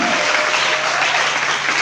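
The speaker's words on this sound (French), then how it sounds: "Acclame très fort pour Jésus." A church congregation breaks into loud, sustained applause and cheering for Jesus, a dense wash of clapping that fills the room without pause.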